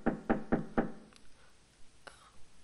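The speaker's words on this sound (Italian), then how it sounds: "Sentito, hanno bussato." Four firm knocks on a door in quick, even succession, close and clear, followed by a quiet room with a couple of faint soft thumps.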